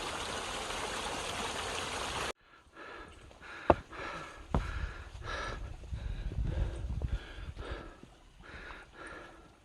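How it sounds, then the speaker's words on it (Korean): A mountain waterfall on the Yeongnam Alps trail between Sinbulsan and Ganwolsan gives a loud, steady rushing roar for about two seconds. It then cuts abruptly to quieter outdoor sound with scattered thumps and rustles. "폭포입니다, 폭포."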